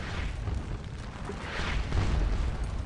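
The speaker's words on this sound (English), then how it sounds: "That's under heavy bombardment right now anyway, my artillery is." Continuous rumbling booms of artillery bombardment in a Napoleonic battle video game, Prussians against French at Wavre, dull and distant-sounding with no clear separate shots.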